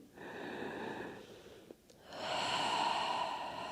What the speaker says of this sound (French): on prend 3 respirations